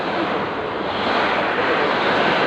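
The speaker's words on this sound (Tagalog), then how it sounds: "masyado malakas yung hangin" Strong wind roars outside a house in Naic, Cavite during stormy weather, a loud, steady rushing noise with no break and no voices.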